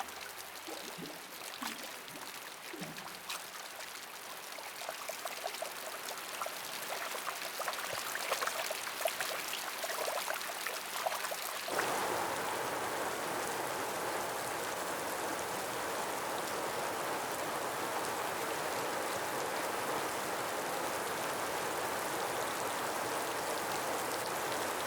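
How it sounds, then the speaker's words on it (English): Heavy rain downpour, a dense steady hiss of rainfall that swells partway through into a loud, unbroken roar of pouring water, close and continuous with no voices. "He orders a great rainy season, a downpour without precedent."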